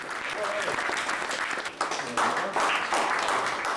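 An audience claps its hands together in a dense, continuous burst of applause, fairly close, with uneven swells and a few brief dips over a few seconds.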